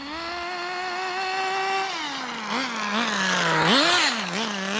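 A Kyosho Ford RS500 radio-controlled car's small nitro engine, recently re-tuned after running lean, buzzes loudly at a high steady pitch, then revs up and down in quick bursts.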